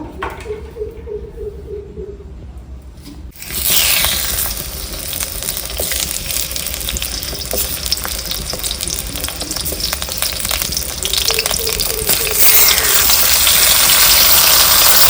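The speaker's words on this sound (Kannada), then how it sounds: "ಈಗ ಎಣ್ಣೆಯಲ್ಲಿ ಇದನ್ನು ಬೇಯಿಸ್ಕೋಬೇಕು" Oil sizzling and frying in a pan on a village kitchen stove while cooking tomato egg rice, a steady close hiss that swells louder partway through and continues without pause.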